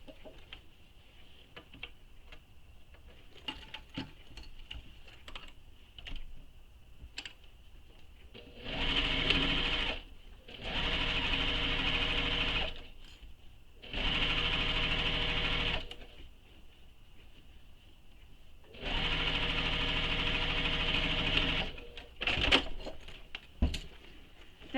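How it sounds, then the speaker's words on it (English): A sewing machine stitches a zipper pocket on a fabric wallet in four steady runs of rapid mechanical whirring, each lasting a few seconds, separated by quiet pauses with small handling clicks and rustles. "I'm going to sew along this edge using the seam allowance she gives in the pattern"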